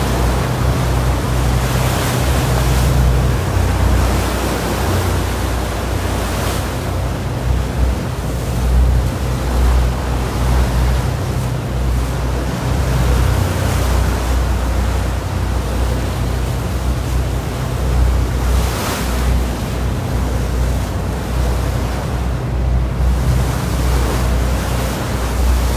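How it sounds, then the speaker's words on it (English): Ocean waves wash and rush steadily past the stern of the 125-foot boat Atlantis on a dolphin-watching trip, a constant broadband swash with wind over the microphone and occasional swells, no voices, for the whole stretch. "Smooth sailing on the 125-foot Atlantis. You're at the stern, down the right side of the boat."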